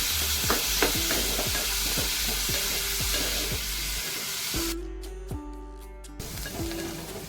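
Onion sautéing in a pan for a monsoon bharang leaf vegetable dish, a steady close sizzle broken by regular scraping strokes of a spatula, with a brief quieter stretch near the end before the stirring resumes.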